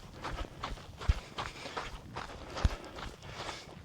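Footsteps running downhill on a dirt trail, a steady rhythm of soft crunching strides with a few heavier thuds, close and moderately loud, no talking.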